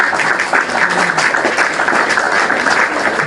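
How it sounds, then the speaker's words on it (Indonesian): An audience applauds at a religious discussion gathering, steady broadband clapping that holds at a constant level for a few seconds with no speech over it. "Tepuk tangan untuk Fandi"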